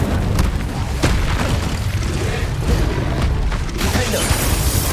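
The Incendio fire spell bursts in the Hogwarts Legacy video game, a loud, dense booming blast with crackling debris over continuous battle noise.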